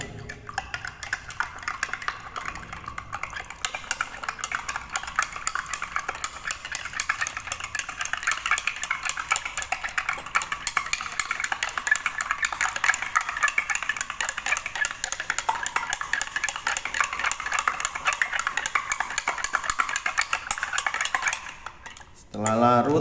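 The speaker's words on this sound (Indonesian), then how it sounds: "Lalu aduk garam hingga larut." A metal spoon stirs salt into water in a glass, producing rapid continuous clinking and scraping against the glass for about twenty seconds before stopping abruptly.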